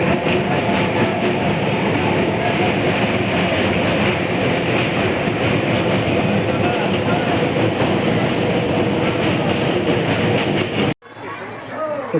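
A local train at Pandua railway station rumbles loudly and continuously, with wheel clatter and faint voices in the background, before the sound cuts off abruptly near the end.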